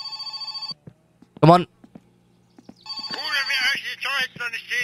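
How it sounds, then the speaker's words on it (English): A telephone rings in the video game My Summer Car, its electronic bell pulsing in short repeated bursts, then ringing again under a man's brief speech. "Phone's ringing."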